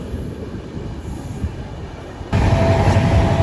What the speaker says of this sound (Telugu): ప్రస్తుతం మన ట్రైన్ క్రూజింగ్ స్పీడ్ ఇది